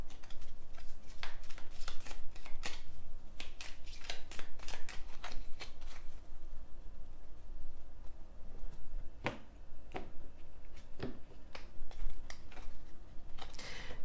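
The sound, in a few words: tarot cards being handled and shuffled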